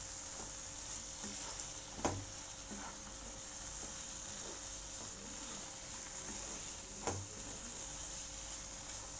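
Mutton chukka is stirred steadily in a pan, making a faint, even sizzle and hiss broken by two sharp spatula knocks against the pan, with no talking.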